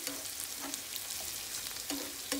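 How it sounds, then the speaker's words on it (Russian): Vegetables sauté in a frying pan for cabbage soup, a faint, steady sizzle with a few soft spikes of stirring and no talk. "Будем ждать, когда пропассируются овощи на сковородочке и картошка подварится."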